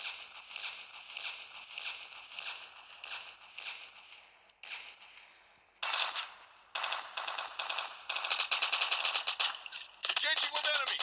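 Rapid automatic gunfire from the mobile shooter Call of Duty Mobile rattles in bursts, a steady stream of shots that pauses briefly, then returns louder and denser with sharp impacts near the end.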